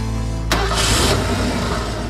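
A car engine cranks and catches with a sharp burst, then settles into a loud rumbling idle with a brief rise in revs, close by and without speech.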